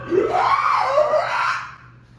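A human voice imitates a creature's shriek, one loud, close, wavering scream that rises and falls over about a second and a half before fading out.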